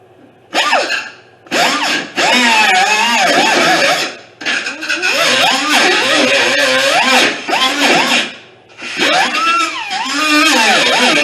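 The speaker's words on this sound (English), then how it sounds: "We'll just cut it off with the grinder." An angle grinder cutting off a part while working on a 1974 Chevy Camaro heater core replacement: loud, close, high-pitched whining bursts that rise and fall in pitch as the disc bites, with short pauses between cuts.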